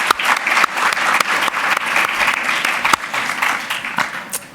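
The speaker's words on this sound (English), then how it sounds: "Can we give one more round of applause to Rika" An audience applauds for Rika, a dense, sustained clapping from a crowd with a few louder individual claps standing out.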